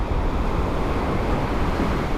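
Waves crash and churn on a large, cold lake while wind buffets the microphone, a loud, continuous low roar of surf close by.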